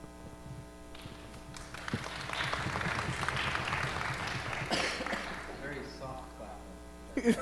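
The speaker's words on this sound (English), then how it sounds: "The soft clap, it kind of went along with the wonderful, soft, and patient tone of Dr. Muzammil" An audience at a live talk event gives soft, scattered applause under a steady hum, and a voice speaks before the clapping fades.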